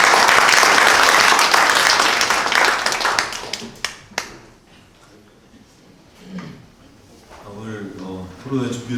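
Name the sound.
audience applause at policy forum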